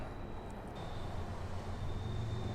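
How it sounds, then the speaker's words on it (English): A train rumbles past steadily, a continuous low roar filling the air behind a highway beside a large yard of burnt cars, trucks and boats. "ironically there's a train going by"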